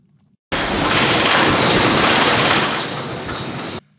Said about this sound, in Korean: 천둥 소리 같은 굉음이 식당 CCTV에 담겼습니다.